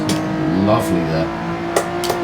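A race car engine in Assetto Corsa holds a steady, sustained tone as the throttle opens through a corner, with a few brief sharp bursts layered on top and a voice talking over it.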